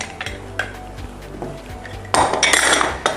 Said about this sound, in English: Got my wonderful trusty lemon squeezer here